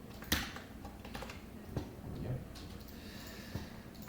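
Computer keyboard keys pressed in a few scattered clicks and taps while coding Spring Boot software, faint and close, with soft background noise and talk nearby.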